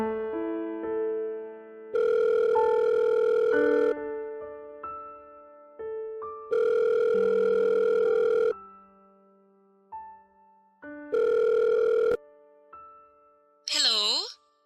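A telephone ringback tone sounds three times while a call is placed, each long buzzing burst separated by pauses under soft background music, followed by a brief rising electronic chirp at the end.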